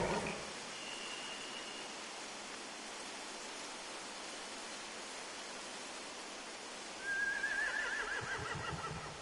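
Horse whinnies in The Walking Dead video game, a single high neigh rising near the end over a steady hiss-like background of game ambience.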